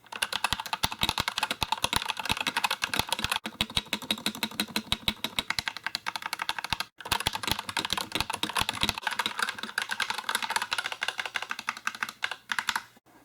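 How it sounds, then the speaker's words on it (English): Continuous fast typing on a Redragon IRELIA K701 60% mechanical keyboard with magnetic switches, a dense stream of crisp close clacks with one brief pause midway, no voices. "Here's also a quick typing test of what the keys sound like."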